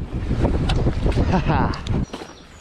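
Strong wind gusts buffet the microphone on a coastal beach, a rough broadband roar that rises and falls beneath someone talking throughout.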